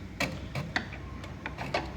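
A fuel line connector snapping into place on a BMW E46 330xd during a fuel pump change gives a series of sharp, close clicks, about six short snaps spaced unevenly over two seconds against a quiet background.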